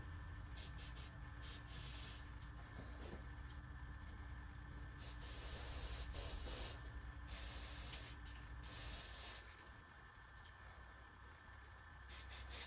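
Faint bursts of carburetor cleaner spray hiss in short and longer blasts onto the jets of a 2003 Yamaha Kodiak 400 carburetor, over a steady background hum, with no talking.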